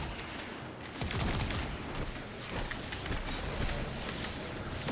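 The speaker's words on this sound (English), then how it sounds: "I'll shoot that one from a distance." Gunfire in the video game Destiny 2: rapid bursts of shots layered over busy game ambience, moderately quiet and continuous across a few seconds with no speech.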